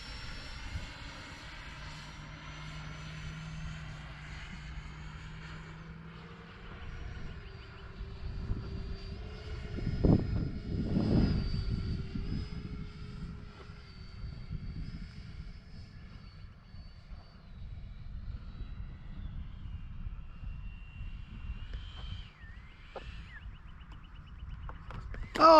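A customized FMS F-18F Super Hornet RC model jet flies past at a distance, its ducted-fan whine rising and falling faintly, swelling louder around the middle as it passes closer before fading again.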